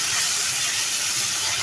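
Chicken fries in a hot pan with ground cumin and other spices for tandoori chicken pasta, giving a steady, loud, close sizzle with no pauses or speech.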